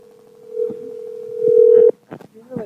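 A steady telephone dial tone hums close and loud for nearly two seconds, then cuts off, followed by a few short clicks and faint voices.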